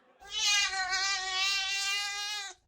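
A person imitates a cat with one long, drawn-out high-pitched meow, close and clear, with no other sound around it.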